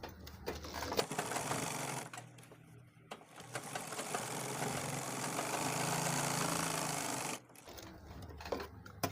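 A sewing machine runs in long continuous bursts while stitching a handmade fabric travel bag, its motor whirring steadily and close with a couple of brief pauses between runs.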